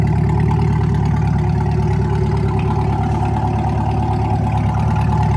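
Inside the cabin of a Corvette C8 fitted with a Z06 wing, a steady low engine and exhaust drone runs constantly, with no revving, heard alone.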